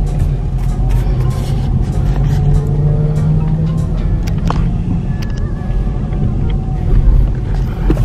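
A 2023 Honda HR-V LX rolls along on a test drive, heard from inside the cabin as a loud, steady low engine and road rumble that swells slightly near the end.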